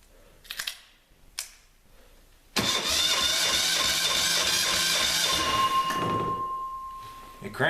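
Old engines with no diesel fuel crank on the starter, a few short clicks and whirs, then a sustained loud mechanical cranking drone that never catches and fades near the end.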